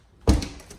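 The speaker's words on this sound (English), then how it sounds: "Door's sticking a little bit." A sticking pantry door in an older house's kitchen pulled open with one dull thunk and a short scrape as it frees, close by, with no voices.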